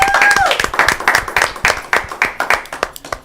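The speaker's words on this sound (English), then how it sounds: "A round of applause on that," An audience bursts into applause at a community event in El Monte, with a dense run of claps that thins into scattered, separate claps toward the end, close and lively.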